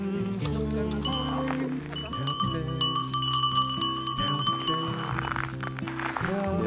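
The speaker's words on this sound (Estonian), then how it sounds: "Kõlistame siis oodates esimesi lõpetajaid ka kellukest" A small hand bell rings at the finish area of the Taliharja Vanakuri 2018 winter night 101 km ultramarathon, bright ringing tones mixed with clinks over a dense layer of other sound.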